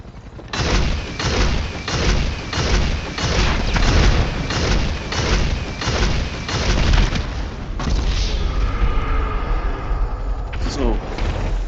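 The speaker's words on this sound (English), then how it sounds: "Let's see what his chances are against me using the homing launcher." Rocket blasts from a homing launcher in the GTA video game, a loud run of repeated booming explosions in a steady rhythm, followed by rumbling aftermath and a whooshing streak near the end.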